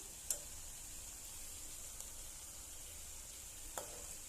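Cabbage stir-fry cooked without water being mixed with salt and sugar in a pan: a steady low sizzle-hiss throughout, broken by two or three brief taps of the spatula against the pan.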